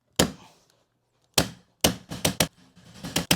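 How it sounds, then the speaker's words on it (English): A staple gun fastens a carpet runner onto winding stairs: one sharp snap, a pause, another, then a quick run of four to five crisp shots close by. "Now because I want this nice and tight, I'm putting a staple every 1/4 of an inch."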